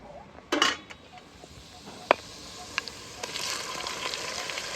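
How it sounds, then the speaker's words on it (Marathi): Mutton coated in turmeric and salt is dropped into hot oil with fried onion, ginger, garlic and whole spices, giving a sudden burst of sizzling followed by steady frying, a few sharp metal clinks, and a faint voice underneath. "आता त्याच्यात मी मटण टाकून घेणार आहे,"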